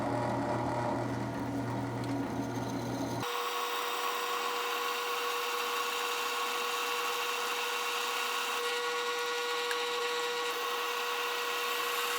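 A drill bores holes through metal pieces for a trailer ramp, a continuous close grinding whir that shifts character after about three seconds and then runs steadily to the end.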